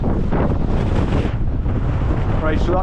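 Heavy wind buffets the microphone near a waterfall on a rain-soaked beck, a loud steady rumbling roar that fills the whole moment, with a faint voice near the end.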